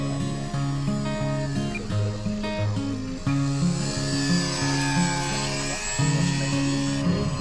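A J3 model airplane's small engine whines overhead on its approach to landing. Its buzzing drone holds steady, then shifts in pitch as the plane passes, with no one talking.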